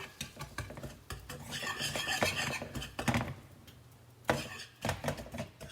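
A whisk scrapes and clinks around a bowl while mixing brown sugar, in uneven rhythmic bursts of rattling metal against the bowl, close and moderately loud, with short pauses between strokes.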